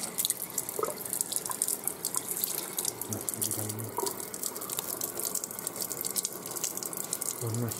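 Purified water runs steadily from the tap of a Panasonic TK-CJ12-W water purifier, a close, continuous splashing stream with faint drips and a few low background sounds.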